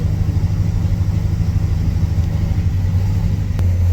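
A 1965 Chevrolet Impala SS V8 runs with a loud, deep, steady rumble close by, slightly uneven and struggling to idle smoothly, with no voices.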